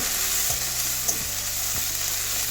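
Cauliflower frying in oil with bay leaves and green chillies in a pan, giving a steady loud sizzle broken by three or four scraping stirs at regular intervals, with no talking.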